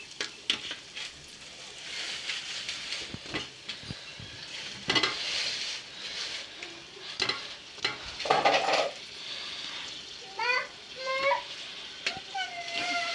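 Chicken pieces frying in a pan for Kuwaiti majboos biryani, a continuous sizzle with intermittent scraping stirs and utensil clatter, close by; people speak in the background, one voice sounding like a child.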